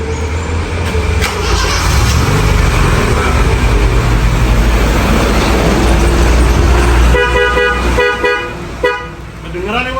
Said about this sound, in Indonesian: Denger banget Mas, nyaring banget klaksonnya